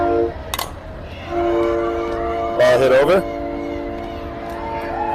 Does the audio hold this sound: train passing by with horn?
yes